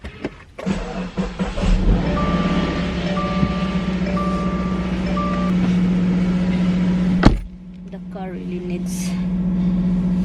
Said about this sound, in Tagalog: ang pangit ng tunog ng sasakyan pag inandar